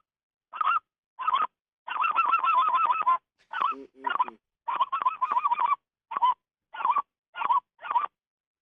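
Speckle-belly geese honk in a series of loud, sharp calls, some single and some in rapid chattering runs, close and clear against a silent background with no talk.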